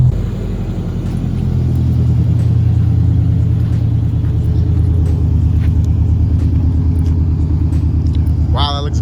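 A car fitted with a Rocket Bunny Pandem V3 body kit idles and pulls away, its engine a steady, loud low rumble close by, with a brief higher sound near the end.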